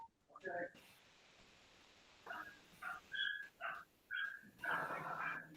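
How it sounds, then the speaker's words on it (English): A puppy shut in its kennel gives faint, high whimpering cries in several short bursts, with a longer run of whines near the end, heard under quiet background room noise. "the screaming puppy that has been put in his kennel"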